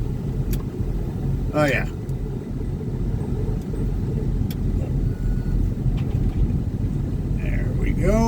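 A John Deere tractor fitted with a blower starts up at an airfield, then settles into a steady, close engine rumble, with brief spoken remarks over it.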